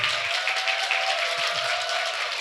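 Church audience at a Wednesday worship service applauding and cheering, a steady dense wash of clapping that holds evenly throughout the short stretch with no talk over it.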